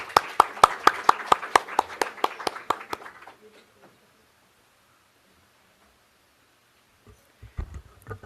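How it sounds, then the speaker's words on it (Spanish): An audience at an anniversary ceremony applauds with a run of sharp, evenly spaced claps for about three seconds, then falls quiet before faint shuffling noises at the end. "Un aplauso, por favor, para él."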